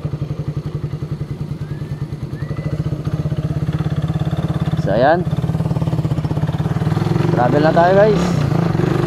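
Motorcycle engine running steadily while riding at night through the town of Placer, Masbate, a low rhythmic putter throughout with a couple of brief squealing rattles; someone talks over it at the start.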